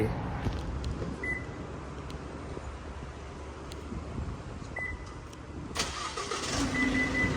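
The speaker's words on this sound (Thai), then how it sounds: "รุ่นนี้นะ ตัวท็อปสุดนะเขาจะ สตาร์ทเครื่องยนต์จากด้านนอกตัวรถได้นะคะเห็นไหม เครื่องยนต์ติดแล้ว" A 2023 Isuzu top-model vehicle's engine is remote-started from outside, with a couple of short electronic beeps over a low steady engine rumble that settles toward idle, heard from nearby.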